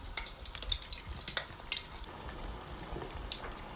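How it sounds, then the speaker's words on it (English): Spring rolls frying in a pan of hot oil, a steady soft sizzle with scattered crackles and pops, close by and moderately loud, with no talking. "I'm just going to add the spring rolls and fry them until they're nice"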